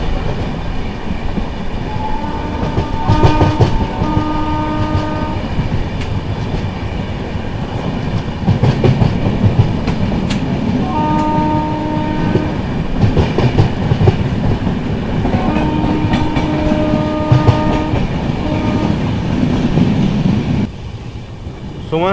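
The 12423 Dibrugarh–New Delhi Rajdhani Express passes close by at Kokrajhar station in Assam, a loud steady rumble of wheels and carriages with rhythmic clickety-clack and intermittent horn-like tones, fading near the end.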